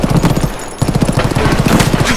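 Rapid gunfire in the video game Escape from Tarkov, a dense string of loud shots crackling continuously with a brief gap partway through.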